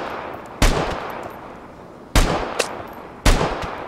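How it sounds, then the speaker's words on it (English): Three sharp, loud gunshots from enemy players in the game Vigor crack at uneven intervals, each followed by a short echoing tail, with no talk over them. "They're shooting at me!"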